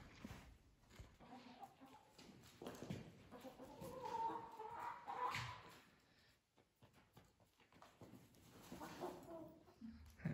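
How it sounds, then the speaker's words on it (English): Chickens cluck while running around outdoors on a farm during cattle panel building, scattered soft clucks and scratching at mid distance against open-air background noise. "Chickens are still running around."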